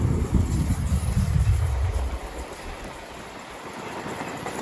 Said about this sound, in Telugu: Krishna express crossing,